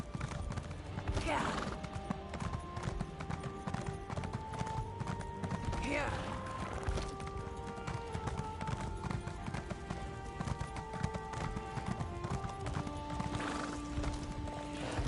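Horse hooves clop steadily while a horse whinnies a few times in the video game Elder Scrolls Online, set against busy game music and ambient effects.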